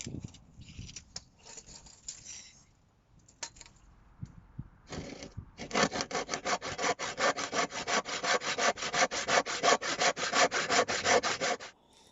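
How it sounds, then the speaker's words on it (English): Hand sawing timber to size for a greenhouse build, starting with scattered scrapes and knocks before a steady rhythmic run of quick back-and-forth saw strokes that stops abruptly near the end. "We'll cut the wood to size and we'll get bolting it together."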